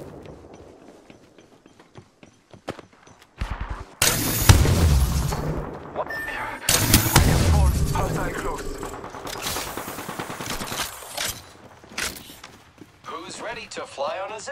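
Bursts of gunfire in Apex Legends, with heavy booming shots and rapid automatic fire, come in loud clusters between quieter stretches. Voices talk over the action.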